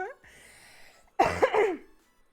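A person coughs a few times in a quick rough burst, close by, after a brief moment of quiet.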